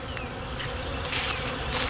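Honey bees swarm close by at an opened hive, a dense, continuous buzzing hum with a few louder passes near the ears.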